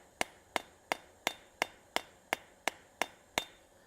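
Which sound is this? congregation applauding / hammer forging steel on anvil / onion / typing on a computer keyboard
hammer forging steel on anvil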